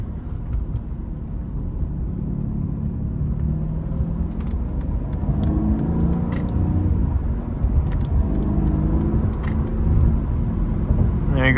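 A 2020 Mercedes-Benz SL550 accelerates up to cruising speed on cold tires, its engine rising in a smooth swelling rumble with steady road and tire noise, heard from inside the cabin.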